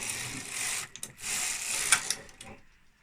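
A knitting machine carriage is pushed across the needle bed to knit a row of stitches, giving a close, steady mechanical whirring and clicking sweep that pauses briefly and then continues before stopping.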